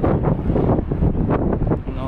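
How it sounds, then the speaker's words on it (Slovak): Strong wind buffeting the microphone at Helsinki harbour, a steady loud rumble with gusty surges throughout, with harbour and water ambience beneath. "A že fúka, dosť fúka."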